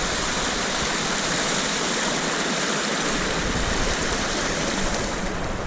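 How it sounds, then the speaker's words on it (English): Creek water rushes continuously where a creek meets a river at a confluence on a trail, a steady broadband wash, near and loud, with no voices. "This is the actual confluence of, to my right, the river we walked on today, and then this is it Mill Creek?"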